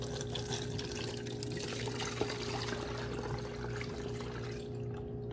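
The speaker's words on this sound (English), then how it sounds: "So I'm going to add the water" Water pouring steadily into a container of rice, a soft continuous stream over a low background hum.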